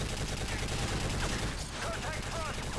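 Continuous rapid gunfire from the Call of Duty MW3 video game fills the mix, dense and sustained like a firefight, with faint voices briefly audible underneath.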